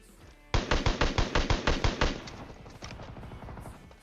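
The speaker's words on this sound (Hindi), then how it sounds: "अब मेरे पे एक ऐसी गन है जिसमें फायर दबाने पे गोलियां लगातार निकलती हैं।" A rapid burst of about ten evenly spaced video game gunshots rings out close and loud, then fades into a quieter rumble of distant shots.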